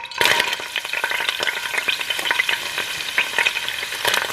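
A quarter cup of hot peanut oil crackles and sizzles vigorously in a pan, a dense, continuous spatter with quick pops throughout, heard up close with no voices.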